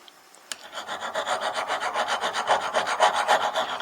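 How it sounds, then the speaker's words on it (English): A stainless steel broadhead is sharpened with quick, even rasping strokes, about five per second, close and steady with no talk. "we're going to sharpen it"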